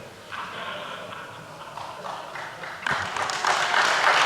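Lecture-hall audience at a talk in Copenhagen breaks into applause, starting as scattered patter and swelling after a few seconds into a dense, louder wash of clapping that keeps building.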